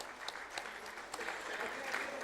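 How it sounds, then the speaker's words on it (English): A literary festival audience at an award ceremony applauds, a steady patter of clapping heard from a moderate distance and fairly faint throughout. "A big round of applause."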